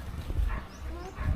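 A dog on a mountain farmhouse gives short soft yips and whimpers in quick succession, close by and fairly quiet, with rustling in the background.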